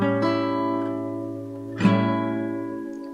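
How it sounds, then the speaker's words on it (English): A dominant 7th chord on an acoustic guitar sounds clearly: an initial strum rings, then a second sharper strum near the middle re-sounds the chord, which sustains and fades gently without any talking. "Finally, the dominant 7 chord sounds like this."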